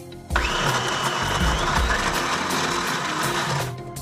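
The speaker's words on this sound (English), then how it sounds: "She puts chopped coriander, a couple of green chilies and garlic cloves into a blender with salt and vinegar." A kitchen blender whirs loudly as it chops coriander, green chilies and garlic cloves with salt and vinegar, starting abruptly and running at a steady high-pitched spin for a few seconds before slowing.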